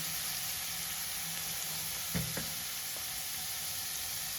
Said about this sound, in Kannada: ಲೈಟಾಗಿ ಉರಿ ಇಟ್ಕೊಂಡು ಹುರ್ಕೋಬೇಕು